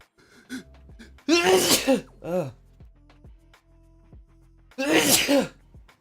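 Two loud, sharp sneezes close up, the first followed by a smaller sneezy burst, with quiet breathing and small sounds between them.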